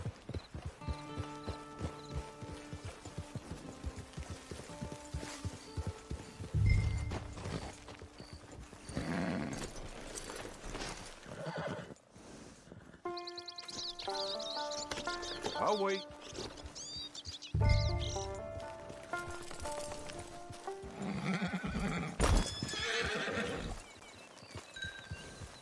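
Horses clip-clop at a walk near a camp, with steady hoofbeats and two loud whinnies, while people talk over music and occasional birds chirp.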